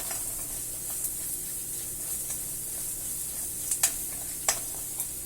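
Coriander powder being stirred into masala in a pan for dhaba-style paneer butter masala, a steady close sizzle with soft scraping and a few sharp spoon clicks against the pan near the end, no voices.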